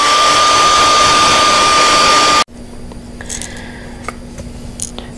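Heat gun blowing hot air to heat-set spray paint on a Monarch Butterfly piece, a loud steady whir close by that cuts off abruptly partway through, followed by quiet room tone with small handling clicks.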